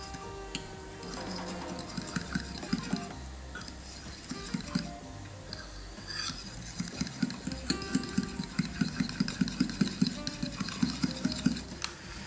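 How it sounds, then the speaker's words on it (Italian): A utensil stirs egg yolk and grated parmesan in a bowl, producing quiet, rapid rhythmic clicking and scraping that grows steadier and slightly louder toward the end. "il tuorlo e del parmigiano a piacere. E andiamo a mescolare."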